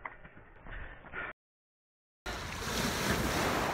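Sea waves wash against the shore in a steady broadband rush with wind noise on the microphone, cut by a brief silent gap before the surf returns louder and closer.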